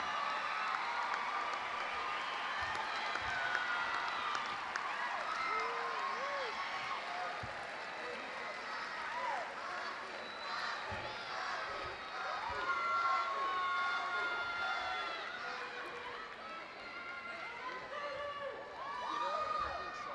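Graduation crowd at the Ann Arbor Pioneer High School 2019 commencement ceremony, applauding and cheering the class of 2019 with scattered whoops and shouts, sustained for the whole stretch and heard from a distance.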